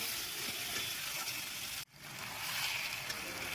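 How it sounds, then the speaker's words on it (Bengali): Potatoes and peas frying in spice paste for a Bengali rohu fish curry, a quiet continuous sizzle with a sudden brief dip midway before the frying hiss swells back, no talk. "এবার ভালোভাবে আলু মটরশুঁটি মশলার সঙ্গে কষিয়ে নিচ্ছি"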